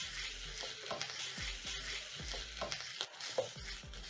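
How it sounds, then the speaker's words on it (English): Onions, garlic and ginger sizzle in a hot pan during a spaghetti stir fry, with steady crackling and repeated scrapes and tosses of a spatula at an even rhythm, close and moderately loud. "Toss the onions and garlic and ginger together and cook for around a minute until the onions are softened up."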